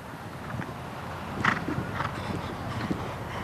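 Hooves of a 14-year-old show jumping stallion clip-clop at a steady pace in an arena, mid-distance, beneath a constant wash of crowd and outdoor ambience.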